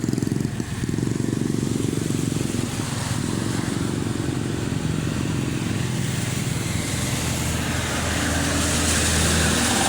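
A Suzuki Smash motorcycle engine passes on a road, a loud, continuous rough drone that holds throughout with a slight dip early on and swells again toward the end, with no talk.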